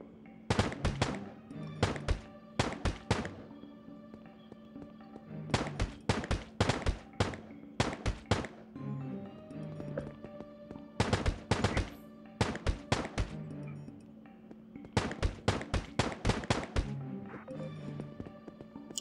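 Pistol shots in the video game Agent Action, fired in quick clusters of sharp reports separated by short pauses, repeating steadily over roughly twenty seconds.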